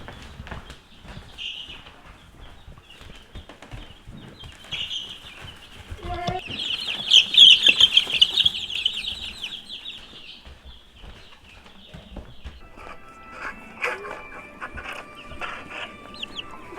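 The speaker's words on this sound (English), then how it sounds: "it's time to get those chickens outside, out of my kitchen" Chickens cluck and mutter softly, rising to a brief flurry of louder squawking midway before settling back into scattered low clucks.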